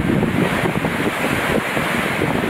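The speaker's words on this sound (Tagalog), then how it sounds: "Ganyan po kalakas ang ulan talaga po dito sa amin." Steady roar of heavy rain mixed with strong gusting wind, loud and continuous with no pauses.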